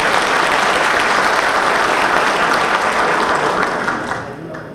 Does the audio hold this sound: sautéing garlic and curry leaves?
no